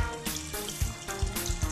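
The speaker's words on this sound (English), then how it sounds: "Pour that into our glasses here." Sweet and sour mix pours into cocktail glasses for a tropical drink, a steady liquid stream with splashing and a few louder glugs, close and fairly quiet, with no talking.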